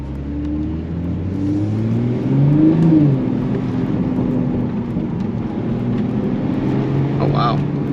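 A MK5 Toyota Supra accelerating hard from inside the cabin, a deep engine drone rising and falling in pitch through the gears, loud and close with steady road roar.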